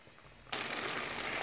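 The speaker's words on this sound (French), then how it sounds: "Là, je vais pouvoir verser de l'eau chaude." Hot water poured into a tagine holding browned tomato and other ingredients for a cauliflower tagine starts abruptly as a steady, loud broadband rush that holds without a break.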